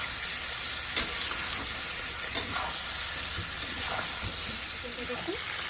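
Salt, turmeric and Kashmiri chili powder fry lightly in oil for chicken kasundi, giving a steady close sizzle and hiss with a few soft stirring knocks.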